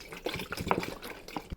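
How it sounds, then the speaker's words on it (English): Fertilizer-laced water drips slowly into a moss pole for a Monstera, soft irregular drops and trickles, faint and close, without any talk. "This will just slowly drip and evenly distribute all of the water."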